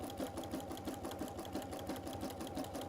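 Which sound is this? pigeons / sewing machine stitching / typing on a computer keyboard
sewing machine stitching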